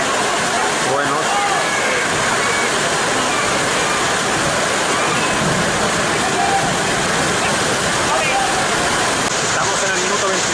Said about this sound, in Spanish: no para de llover aquí en Palamos